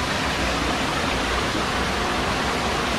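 Durgapadu waterfall in Rayagada, Odisha, a steady, dense roar of falling water that holds even and unbroken, loud and close, with no voices.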